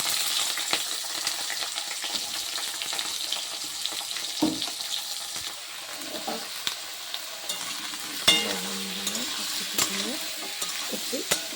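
Panch phoron, the Bengali five-spice mix, is stirred in a hot pan, giving a steady oily sizzle with occasional scrapes and light clinks of a spoon against the metal.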